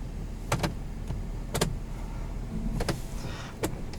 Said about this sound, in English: You could extend and retract the mirrors.